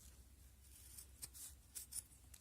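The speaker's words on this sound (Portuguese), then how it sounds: "eu vou na parte de trás e corto o excesso que eu tenho aqui do zíper" Scissors snipping off excess zipper fabric while sewing a small coin purse from scraps, a few quiet, close crisp cuts in a row against a faint hushed background.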